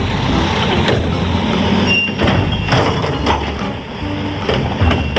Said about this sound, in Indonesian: Yang terakhir ada mobil truk sampah.